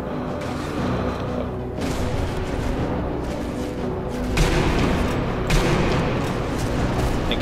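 Sustained gunfire in the WWII sniper game Sniper Elite V2, at a church with a tower, a dense continuous rattle of shots and booms running throughout at steady loudness, with heavier bursts near the end.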